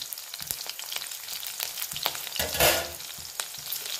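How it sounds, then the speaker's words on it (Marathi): Green chillies fry in a pan with a close crackling sizzle, sharp pops and stirring scrapes punctuating the steady spatter. "हिरवी मिरची थोडी लाल होऊ देऊया"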